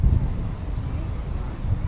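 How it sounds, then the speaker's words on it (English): Strong gusty wind buffets an outdoor microphone on a windy day, a steady low roar with rising gusts, recorded during a drone flight over Leyton, London. "I'll see if the winds die down. It's like really strong. It's like a windy day."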